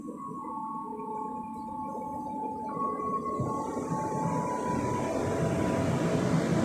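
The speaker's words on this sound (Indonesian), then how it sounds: "Oke, yang ini adalah kereta api bandaranya ya." An airport train idling at a station platform, a steady low rumble and hum with a faint tonal whine, gradually growing louder, no voices.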